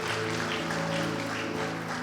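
Steady clapping from a congregation at a Sunday Hindi church service fills the space, with a sustained musical hum running underneath.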